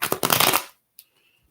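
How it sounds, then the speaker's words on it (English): Tarot cards are shuffled in a quick, close riffling burst lasting under a second, followed by near silence and one faint tap. "So, Dreamy Rose, I will shuffle the cards"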